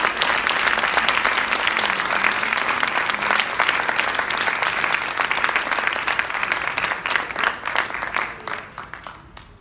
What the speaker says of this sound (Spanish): ¿Le das un aplauso conmigo al Señor?